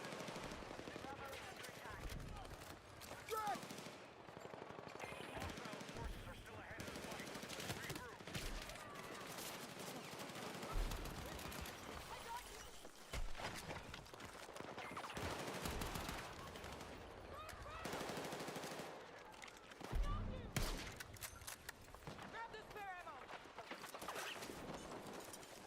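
Rapid bursts of automatic gunfire in a first-person shooter video game, repeated volleys and single shots at varying distances, with a player's voice talking over much of it.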